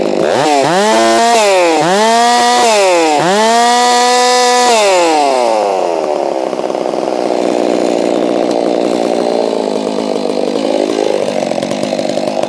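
A Holzfforma G660 chainsaw, just fitted with a new fuel filter, revs loudly in several rising and falling bursts close by, then settles into a steady rough idle and climbs again near the end.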